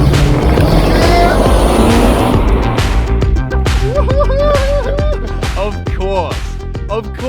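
A car accelerates hard in a short race against a person, its engine loud and rising close by with a brief tire squeal, before voices and laughter take over.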